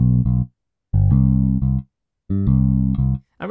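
Short bursts of warm, saturated drums and tonal hits in three separate phrases with silences between, sounding slightly thick and colored, processed through an Eplex7 DSP Vintage VD76 vacuum tube bass/drum enhancer.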